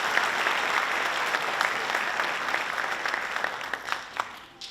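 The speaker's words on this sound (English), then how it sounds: "Again, let's give them another round of applause." An audience at a departmental awards ceremony gives a round of applause, steady dense clapping that carries on evenly and begins to thin out toward the end.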